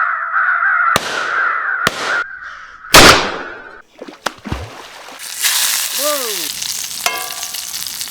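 Crows cawing at an owl decoy outdoors during a wild-game hunting and cooking trip: several loud, harsh caws in a rough rhythm, followed by rustling, clattering noise and a few higher calls.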